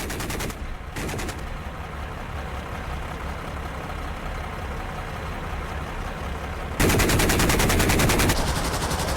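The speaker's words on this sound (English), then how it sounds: "Let's drop some cluster bombs right in the middle of them." Cluster bombs dropped from an A-10 in the DCS flight sim, heard as a steady rumbling roar that suddenly erupts into a loud, dense crackle of rapid overlapping blasts.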